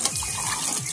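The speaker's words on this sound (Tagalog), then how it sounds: "Ingay. Ang tubig pala." Water gushing and rushing as it fills an underground space beneath a banana plot, a steady, loud, close hiss throughout, with no talk.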